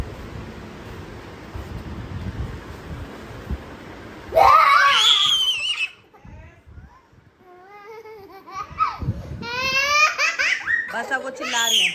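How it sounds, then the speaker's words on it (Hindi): A young girl screams and laughs loudly and shrilly in short rising bursts at a family weekend outing, preceded by background chatter and ambient noise, with shorter cries and giggles following. "बस अब वो चिल्ला रही है।"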